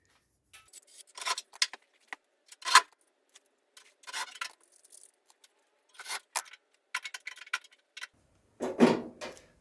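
Rusty steel on a Ford Escort MK1 wing is cut by hand along a marked line, giving quiet, irregular snipping and scraping bursts separated by short pauses.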